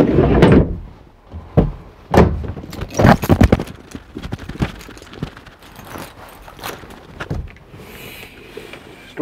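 Large drawers in a 2012 Coachmen Mirada motorhome bedroom are pulled open and pushed shut, giving several sharp sliding thumps and knocks with rattling in between, loud and close.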